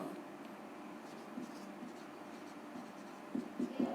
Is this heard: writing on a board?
yes